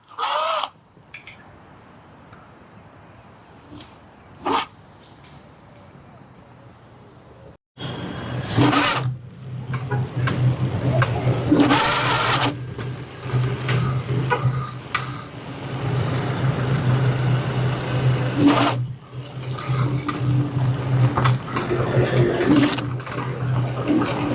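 A Mars 11 GTR motor runs in fifth gear at maximum settings. After several seconds of quiet with faint knocks it bursts into a loud, sustained, rough whine with surges and sharp bursts, running close and continuous to the end.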